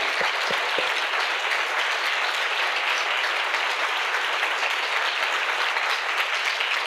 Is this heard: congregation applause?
yes